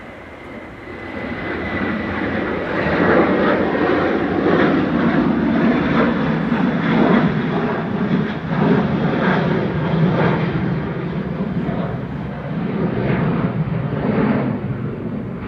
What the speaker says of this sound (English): Go Ryanair up to Belfast EIDHO 737-800